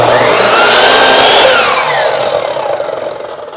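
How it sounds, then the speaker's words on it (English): A miter saw slices through hardwood in a workshop with a loud whining cut that rises and then winds down as the blade spins to a stop. "I'll make sure to feed my miter saw at least once a day"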